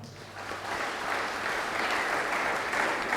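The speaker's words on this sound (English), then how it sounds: "with a huge applause, I welcome you, dear Sister Sagana." Audience applause welcoming the chief guest at an institute day celebration, a dense, even wash of clapping from a large crowd, sustained throughout at moderate distance.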